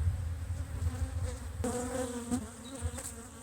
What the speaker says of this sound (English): open up the hive regularly just to allow the drones to escape